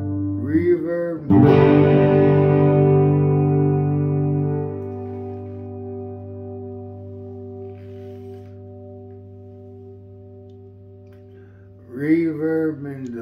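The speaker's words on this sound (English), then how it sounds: "Reverb and delay on the reverse setting." A single guitar chord through reverb and delay on a reverse setting rings out and slowly swells and decays with a long, washy reverb and echo tail, with brief voice sounds at the start and end.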